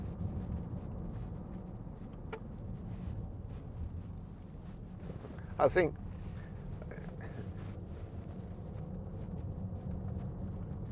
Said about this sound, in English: Listen to that. 3 litre diesel engine.